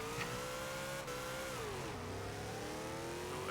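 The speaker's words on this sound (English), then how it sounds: "Let me rev it up." Car engine revving in Forza Horizon 2, a loud, continuous roar whose pitch rises and falls as the throttle moves through gears, with a blower whine over it and no talking.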